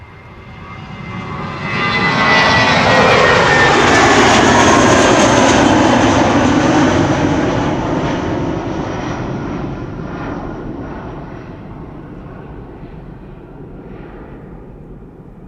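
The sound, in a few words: Airbus A320 jet departing Amsterdam Schiphol Airport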